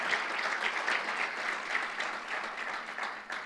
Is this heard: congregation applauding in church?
yes